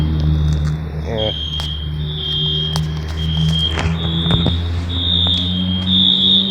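A Genesis horn strobe fire alarm blares in a steady high-pitched electronic tone with repeated pulses, loud and continuous in a vacant building, with a person talking underneath.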